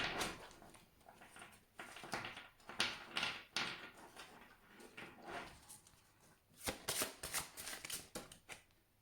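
Tarot cards being shuffled and handled, with a run of crisp riffling and slapping bursts that pause briefly and then resume in quick, close flurries, with no voices.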